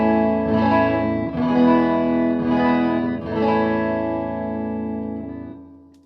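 Chiming twelve-string electric guitar chords, through a TC Electronic Hall of Fame reverb, ring out in several strums, bright and shimmering with a reverb tail as the last chord fades.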